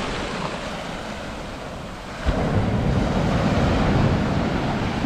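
Sea waves wash onto a beach in Shenzhen, a loud, close, continuous roar of surf with wind buffeting the microphone, swelling as a larger wave rushes in midway.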